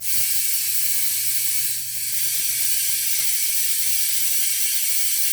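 Tire being inflated on a Mayflower 950 tire machine, a steady, loud, close hiss of air running throughout with a faint mechanical click or two.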